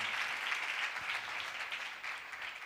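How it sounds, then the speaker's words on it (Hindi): A church congregation applauds during an Urdu sermon, a brief, fairly faint and distant wash of clapping. "सो आइए खुदा के कलाम को जोरदार तालियों के साथ ऑनर करेंगे।"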